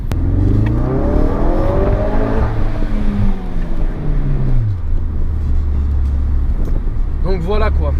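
A 350-horsepower car engine revving up and down in rising and falling sweeps, loud and close, with a steady low drone underneath and a voice speaking partway through.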